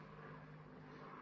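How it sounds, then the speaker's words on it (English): A faint, steady propeller-aircraft hum drones overhead, a distant low continuous rumble with no voices over it. "Sounds like an aeroplane."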